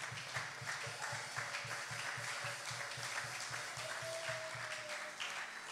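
A church congregation claps and cheers in acclaim of the Lord during a French-language sermon, a steady sustained wash of applause with rhythmic clapping throughout, fairly distant and diffuse.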